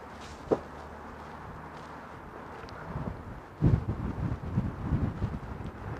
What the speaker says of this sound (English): That wind's absolutely freezing.